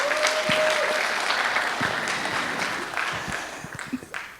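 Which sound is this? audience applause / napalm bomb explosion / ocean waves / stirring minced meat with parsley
audience applause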